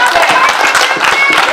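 At a Q&A session with Summer Rockfest bands in Somerset, PA, a small audience claps for someone, loud, close, brisk hand claps mixed with voices talking and cheering.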